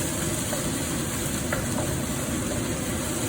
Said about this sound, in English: So we're just going to fry that around.